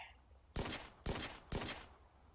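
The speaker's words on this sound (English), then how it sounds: "So this is just the standard assault rifle." A standard assault rifle from a Mass Effect mod in Arma 3 fires three sharp, evenly spaced shots, each a loud crack with a brief tail, after a quiet start.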